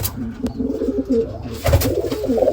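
Pigeons coo softly inside a well, a run of low, repeated throaty coos with a couple of faint knocks in the background.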